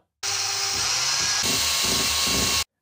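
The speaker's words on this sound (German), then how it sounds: "bohre die Stelle mit einem kleinen Bohrer ganz leicht vor, dass meine Schraube danach einfach nicht mehr verrutschen kann" A small drill pre-drills a screw hole in an IKEA Pax wardrobe, giving one continuous high-pitched whine for a bit over two seconds, loud and close, with slight shifts in pitch as the bit bites.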